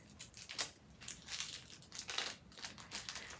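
A knife or scissors cuts through a big marshmallow from a unicorn cake decorating kit, giving soft crinkly squishing and crunching in uneven bursts, close and quiet, with no talking.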